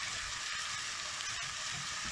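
Garlic frying in a pan over a gas burner at full flame, giving a steady, dense hiss that holds at an even, fairly loud level with no voice over it.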